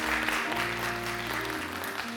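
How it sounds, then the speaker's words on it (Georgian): A concert audience applauds at a studio's year-end show in Imereti, Georgia, honouring a choir conductor. The clapping is full and steady over a low tonal hum, filling the hall at moderate loudness. "აპლოდისმენტები მას."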